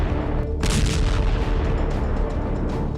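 Heavy booming blasts of airstrike explosions under a continuous roar, one strong burst early followed by rumbling, dense noise, loud and close.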